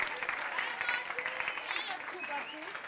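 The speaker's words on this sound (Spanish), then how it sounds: "Pues un aplauso a estos compañeros." Audience applause for students after a school science chemistry talk, fairly faint and sustained dense clapping for a few seconds with some murmuring voices mixed in.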